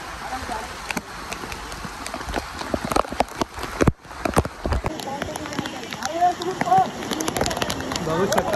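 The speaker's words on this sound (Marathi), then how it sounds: "खूप पाऊस पडतोय." Heavy rain pours at Visapur fort on a steep, waterlogged path, a steady wash broken by loud, close knocks and handling bumps, with a voice talking over it.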